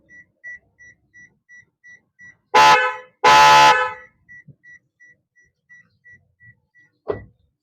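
Two loud blasts from a newly fitted Bosch snail-type car horn on a Daihatsu Sigra, a short honk then a longer one, with faint rhythmic beeping before and after.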